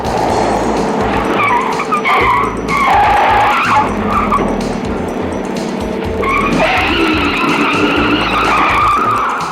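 A 1962 Chevrolet Impala runs a timed test course, with a loud, continuous engine roar and repeated tire squeals and skids through the turns, rising and falling close by with no talk.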